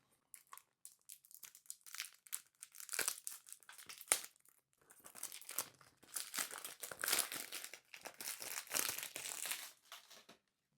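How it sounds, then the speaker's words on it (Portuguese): Close, crisp crinkling and rustling of paper and cardboard as a Tom Ford Eau de Soleil Blanc perfume box is opened, in irregular bursts with short quiet gaps. "Então vamos abrir agora o Eau de Soleil Blanc para borrifar na fita."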